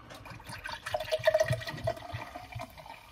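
Mtn Dew Freedom Fusion soda poured into a glass, a soft liquid gurgle and fizzy splashing that swells in the middle and then tapers off, fairly quiet and alone.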